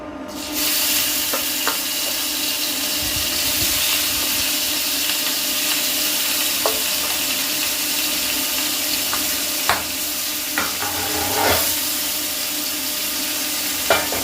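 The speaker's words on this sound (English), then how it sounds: "Now let's make a shallow fry." Rohu fish pieces shallow fry in hot mustard oil, a steady close sizzle and crackle with occasional sharp pops and scraping utensil taps, no voices.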